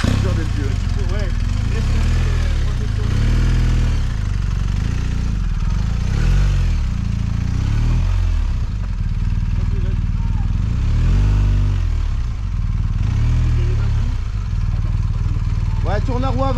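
Trail motorcycles on an off-road rally ride rev and labour loudly and continuously up close, engines surging and dropping over rough ground while people talk throughout.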